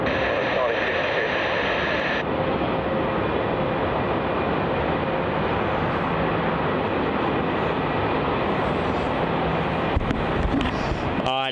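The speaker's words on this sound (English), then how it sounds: "our next departure is Qantas Flight 608 departing off to Brisbane in the 737-800 off Taxiway Juliet on runway 34" A Qantas Boeing 737-800 bound for Brisbane departs runway 34 at Melbourne Airport, a steady jet roar filling the clip at constant loudness, with a brief radio-like tone at the start and a crackle near the end.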